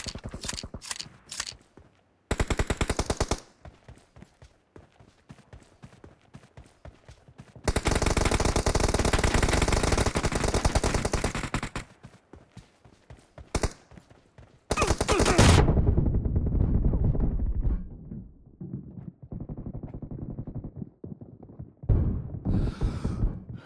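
Shotgun blasts and other gunfire from a video game come in loud, abrupt bursts and long sustained volleys, broken by quieter stretches of clicks and mechanical handling noises.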